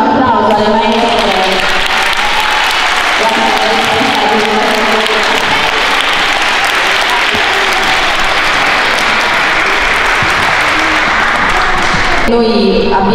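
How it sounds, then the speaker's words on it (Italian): Children applaud their teachers at a school event, a loud, dense burst of clapping that lasts about eleven seconds, with a voice heard just before it starts and again as it ends. "Glielo facciamo un applauso alle maestre?"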